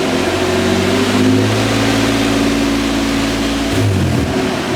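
A Nissan 350Z fitted with an eBay turbo kit drives along steadily, a continuous close engine drone with a slight rise in pitch and some road noise, with no voices.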